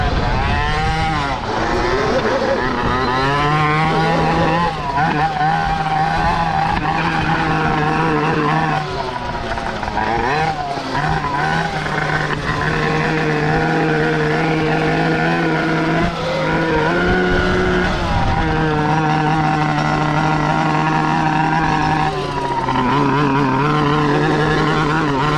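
Engine of a budget half-tracked mini bike riding through mud, a loud, steady droning motor close up with revving swells and dips throughout, sounding alone without talk.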